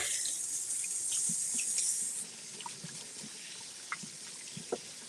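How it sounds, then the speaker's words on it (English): A kitchen tap runs as hands are washed under it, a steady hiss of water for about two seconds, then it stops and a few scattered drips and small clatters follow, close and without talk. "Wash my hands before I touch anything else."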